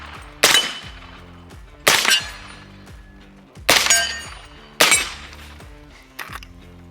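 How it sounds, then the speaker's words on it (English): A suppressed 300 BLK 7-inch pistol fires four sharp, loud shots at uneven intervals, each ringing out briefly, followed by a fainter fifth report near the end. "big difference obviously shooting with a suppressor"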